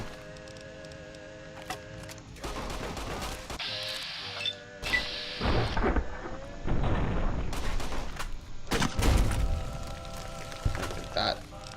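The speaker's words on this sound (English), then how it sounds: "grenade rifle time" A grenade rifle fires and explodes indoors in Fallout: New Vegas, several loud bursts and booms spaced irregularly over a steady electronic game hum, with mechanical clicks between shots.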